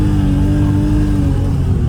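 A BMW E34 M5 engine drones loudly and up close at steady, fairly high revs, with a deep, rough, continuous note and no pause.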